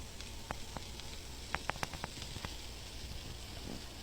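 Faint, quiet sizzling with scattered small crackles and pops from freshly baked sourdough focaccia still hissing as it comes out of the oven.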